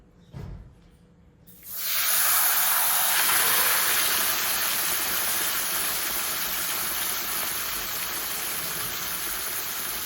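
After a brief quiet moment, a loud sizzle bursts in as chicken is lowered into hot oil in a kadhai, continuing steadily and hissing strongly to the end.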